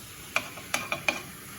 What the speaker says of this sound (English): I'm gonna stir it up a little bit.